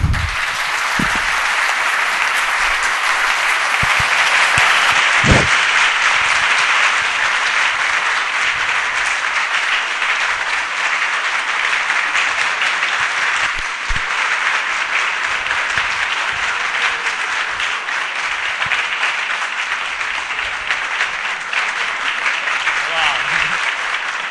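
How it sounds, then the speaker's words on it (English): A large crowd at a graduation ceremony applauds continuously, a dense, loud wash of clapping that holds steady throughout without pause. "can we give a beautiful round of applause to all the graduates again?"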